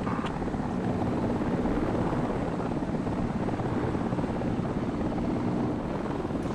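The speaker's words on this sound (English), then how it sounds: "Chopper in front of us?" Helicopter in the military shooter game Project Reality, a steady loud rotor and engine drone holding throughout with broadband churning noise and no voices.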